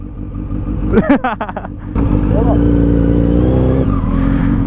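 A 1300cc Suzuki Hayabusa motorcycle engine roars close and loud at speed, with a brief stutter of revs before a sustained steady drone, and a voice briefly heard early on.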